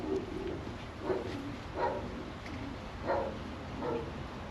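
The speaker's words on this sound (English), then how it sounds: "I need to feed the birds" Racing pigeons in a loft give soft, intermittent coos, four or five faint calls at a steady spacing over a low background hum.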